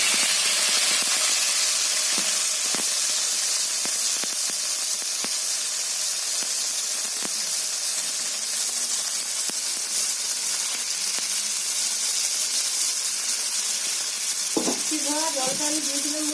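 Paste of tomato, ginger, garlic, onion, coriander and cumin sizzles steadily in hot oil for a Bengali tilapia curry with potato and brinjal, a continuous close frying hiss with small pops and a brief stirring scrape near the end.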